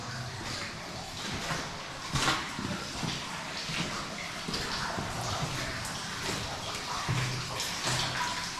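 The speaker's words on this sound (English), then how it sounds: "There's a lot of water in here now." Water runs and splashes steadily inside the Excelsior Tunnel at Kit Hill, Cornwall, echoing in the enclosed space, with scattered drips and occasional louder splashes throughout.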